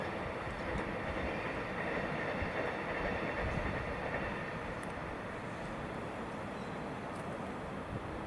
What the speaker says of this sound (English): You can even hear the trains as well.